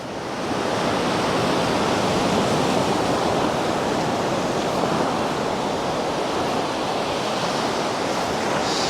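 Sea waves wash steadily onto the beach at Cala Millor on Mallorca, a continuous, fairly loud broadband surf rolling close by with no talking over it.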